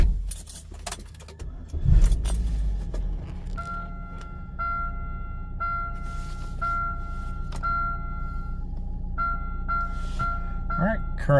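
Keys jangle up close, and then a Chevy Cobalt's engine cranks and starts. It settles into a steady idle while repeated electronic warning chimes sound over it and someone speaks briefly.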